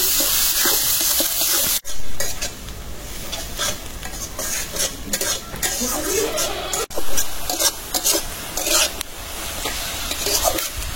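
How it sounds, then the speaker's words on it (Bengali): Chopped onion fries in hot oil in a pan with a bay leaf, a continuous close sizzle broken by repeated scraping stirs and a couple of sharp clanks of the utensil, no talking. "পেঁয়াজটা ভালো করে ভাজা নিলাম"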